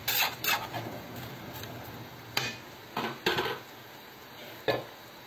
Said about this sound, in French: Là, on va tout simplement couvrir la marmite pour laisser mijoter un petit peu.